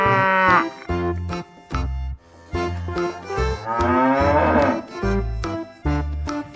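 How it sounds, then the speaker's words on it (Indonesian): A cow moos repeatedly in long, loud, low bellowing calls, close by, with short pauses between them and no talking. "Wow, ada sapi teman-teman."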